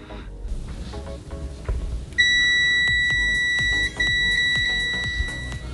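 A Zotek ZT-5566SE desktop multimeter sounds its continuity beeper: a loud, steady, high-pitched tone held for several seconds with a couple of brief dips, following some handling clatter.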